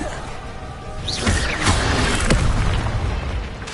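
An Incendio fire spell is cast in Hogwarts Legacy, producing a loud whooshing burst with rumbling booms and crackling impacts that swell midway and then hold steady, with no talking.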